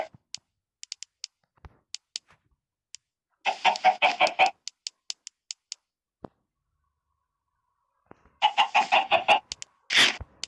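Short bursts of Minecraft chicken clucking, two clear flurries separated by quiet, with scattered sharp clicks in between.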